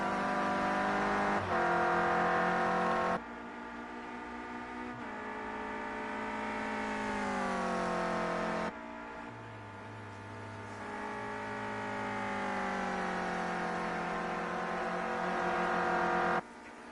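A Renault Clio Cup race car laps Oulton Park, its engine revving high and climbing through gears with abrupt shift cuts, loud and close from onboard, held steady for the whole stretch with no talking.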